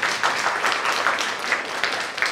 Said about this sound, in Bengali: একটা ছোট হাততালি হোক